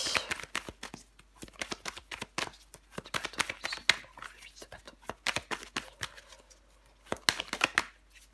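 Tarot cards handled and laid down in quick rustling snaps and slaps, close and fairly quiet, with soft talking in between.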